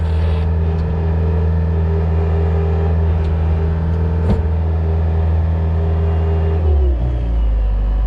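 Bobcat T190 skid steer engine holding a steady loud idle-to-mid rev, then dropping in pitch as it is throttled down near the end, close and continuous with no talking.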